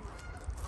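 One short, faint honking call from a duck outdoors on the first day of spring, heard at a distance against quiet background with no talk.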